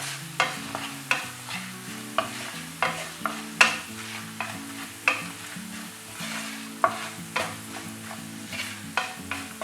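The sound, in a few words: tempering spices sizzling in oil with Kashmiri chili powder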